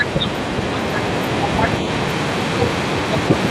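Kolkata Sealdah Express 13125 running at good speed after leaving Krishnanagar station: a steady, loud, continuous rumble of wheels and carriages with no breaks.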